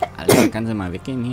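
A single sharp, close sneeze bursts out, followed immediately by someone speaking.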